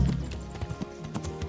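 Hooves of a horse in the video game Kingdom Come: Deliverance clip-clop in an uneven walking rhythm, moderately close, over a low background rumble.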